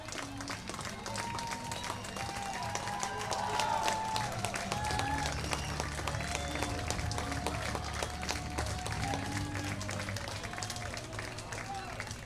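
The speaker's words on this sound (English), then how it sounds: "So well-deserved a round of applause for Marcus Miller." At a baseball game, a stadium crowd applauds a player walking out onto the field, steady clapping and cheering under a commentator's talk throughout.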